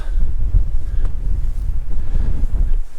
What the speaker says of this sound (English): we've got a northwesterly wind blowing towards us